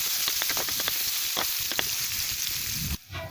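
Garlic and onion sizzle in a hot pan while being stirred for ginataang puso ng saging, with a steady close fry and scattered scraping clicks of the spoon. The frying cuts off abruptly near the end.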